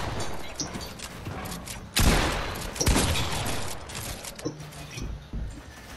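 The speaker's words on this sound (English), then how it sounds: "Yo, stop shooting at me, bro." Gunfire in Fortnite, a couple of loud close bursts of shots among clicking and mechanical game sounds. A faint background hum runs underneath.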